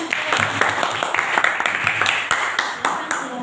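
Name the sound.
classroom applause for a group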